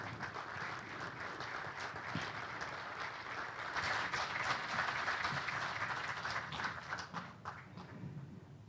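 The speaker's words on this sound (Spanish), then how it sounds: "Un aplauso fuerte para él." Applause from a seated audience at a labor panel on the naval industry and merchant marine, welcoming a transport union speaker; steady, dense clapping throughout that swells slightly in the middle.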